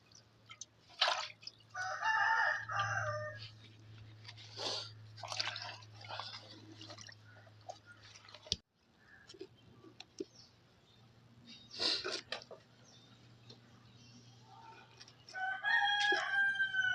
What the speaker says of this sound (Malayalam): കോഴി ബഹളയിടുന്നുണ്ട്